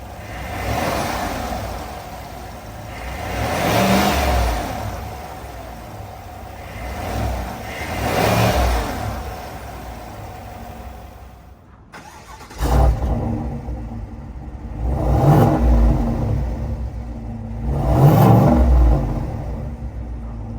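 A GMC Sierra AT4 pickup's 6.2 liter V8 engine turns over and settles into a rumbling idle, then surges through several loud revs, close and clear with no voices.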